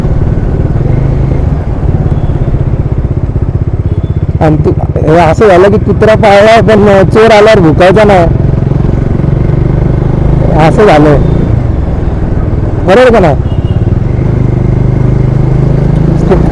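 A 400cc motorcycle engine hums steadily underneath as it is ridden, while people talk over it for most of the time.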